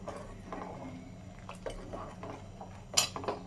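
A spoon scrapes and clinks against a pan while mixing a paste of three kinds of nuts and sugar for kulfi, with soft irregular scraping strokes and a couple of sharper metallic clinks near the end.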